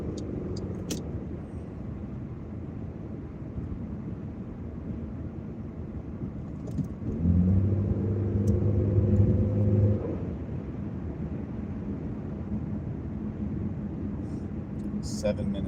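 A car driving through city traffic, a steady low engine and road rumble from inside the cabin, swelling briefly with a deeper droning tone midway, someone talking over it.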